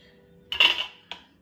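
A metal spoon clinks twice against a pan while mixing a fish and boiled-potato filling, one brief scrape followed by a short tap, close and quiet.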